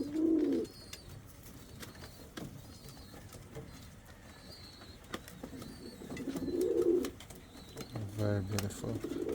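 A red pair of Indian fantail pigeons gives two soft, throaty cooing bursts, one at the start and another later, over a low background murmur with faint rustles and a brief clatter near the end.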